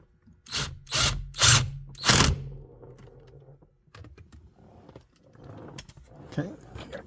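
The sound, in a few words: power tool driving 8mm bolts on Mustang steering wheel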